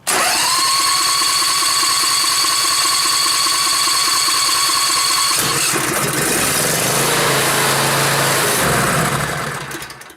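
A backpack leaf blower's small engine fires and runs loud and steady with a high whine, then roughens and stutters near the end as if choked, with no talk over it.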